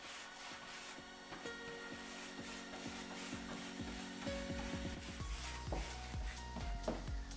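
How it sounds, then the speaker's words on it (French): A paintbrush spreads bonding primer over lightly sanded wooden furniture, making a steady, close scratchy rubbing with repeated stroke accents and no talking. "je vais appliquer ma base d'accroche. Donc je l'applique au pinceau"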